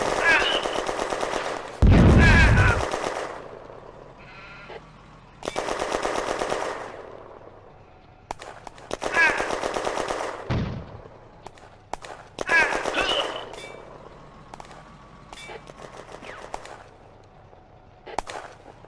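Rapid bursts of machine-gun fire from tanks on a ridge shooting at German troops in the open, in a French 1940 counter-attack battle game; loud, repeated chattering volleys separated by short pauses.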